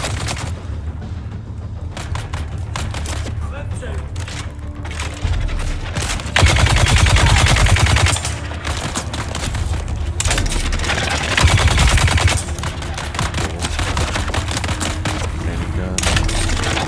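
Heavy gun firing in Dune: Awakening, a dense stream of loud, rapid bursts that swells into heavier booming stretches, with game sounds layered underneath throughout.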